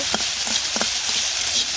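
Boiled eggs sizzle steadily in a hot pan, with a few soft scraping stirs breaking through the constant crackle.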